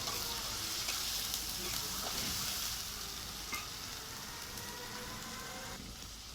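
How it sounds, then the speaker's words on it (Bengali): Onion, garlic, ginger and green chili paste frying for a fish curry, a steady close sizzle throughout that eases slightly in the second half, with faint stirring clicks and no talk. "এবার পেঁয়াজ, রসুন, আদা, কাঁচা লঙ্কা পেস্ট করে আগে থেকে তৈরি করে রেখে দিয়েছি, এটা দিয়ে ভালো করে আমি কষাবো।"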